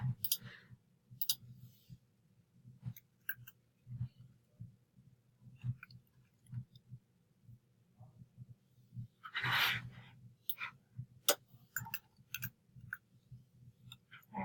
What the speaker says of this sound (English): I've just been clicking and typing.